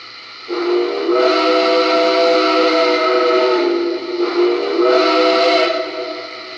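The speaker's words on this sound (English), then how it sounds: "This is a Berkshire, the 765's whistle, nickel plate." A loud multi-chime Nickel Plate Berkshire 765 steam whistle from a Lionel model locomotive blows twice in long sustained blasts with a brief dip between, rich layered harmonic tones ringing close and clear.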